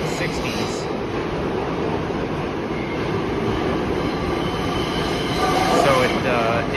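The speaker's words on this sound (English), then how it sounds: "the PATH train loops around here" A PATH train, the former Hudson and Manhattan Railroad commuter line between New York and New Jersey, rumbles steadily with continuous wheel and track noise and a brief high wheel squeal near the end, loud and close throughout.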